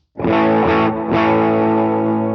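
An electric guitar through dual amps with delay and reverb rings out as one sustained distorted chord, briefly re-struck, swelling into a wide, washy tail.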